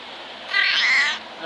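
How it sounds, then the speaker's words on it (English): A friendly cat at Mountain Harbor along the Appalachian Trail gives a single drawn-out meow lasting under a second, close by, over faint outdoor background. "Super friendly kitty."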